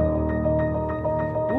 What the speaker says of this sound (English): So there's the tape piano, there's two pianos playing the same part.